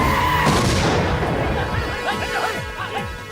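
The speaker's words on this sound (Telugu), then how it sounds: "మీరేం తెలియక చిన్న బాంబు పెట్టారు" A small bomb goes off in a Telugu comedy film scene, a loud crashing blast at the start followed by clattering debris and sharp scattered impacts as it dies away.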